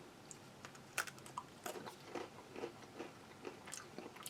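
Crisp crackers from a 2003 U.S. MRE are bitten and chewed, giving a string of sharp, close crunches and cracks spaced irregularly over a few seconds, with no talking.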